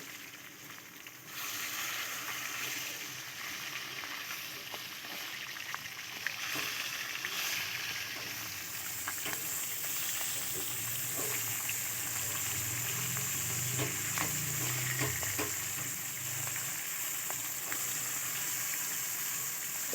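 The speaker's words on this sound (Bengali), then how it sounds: "এবার মাছটাকে এক পিঠ করে ভেজে উল্টে দিচ্ছি।" Fish sizzles in hot oil for a drumstick fish curry and is turned over partway, the dense frying hiss briefly disturbed by scraping and a louder burst of crackle before settling into a steady close sizzle.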